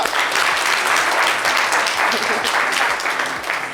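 A TV studio audience applauds: sustained, dense clapping from many hands, loud and even throughout the few seconds.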